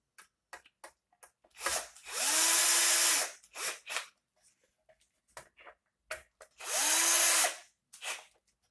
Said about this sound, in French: Pour aligner le boîtier, je visse quelques pas de vis.